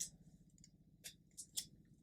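Scissors snip through a planner sticker, cutting it in half: a few quick, soft, close crisp cuts at a quiet level.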